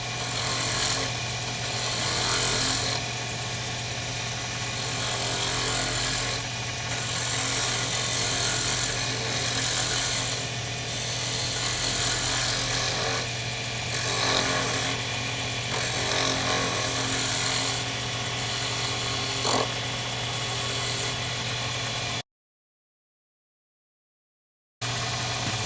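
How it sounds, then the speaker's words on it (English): Faux stone pen blank on a wood lathe during final turning with a small skew chisel, a continuous bright scraping hiss over a steady motor hum with periodic surges, ending in a brief silence. "When I put it back on the lathe and did the final turning"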